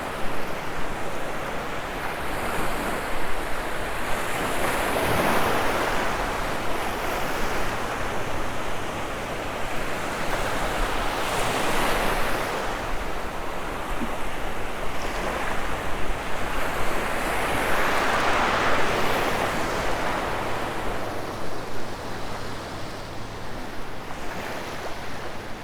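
Rolling ocean waves break on the shore of Sanibel beach in slow, swelling surges every few seconds over a constant wash of surf and some wind buffeting. The sound is close and loud, with no voices.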